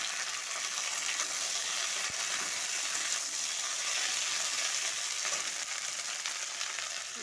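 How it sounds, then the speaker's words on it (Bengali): Sliced okra fries in a pan, giving a loud, steady, close sizzle with a few faint stirring clicks throughout. "একটু ভাজা ভাজা হবে।"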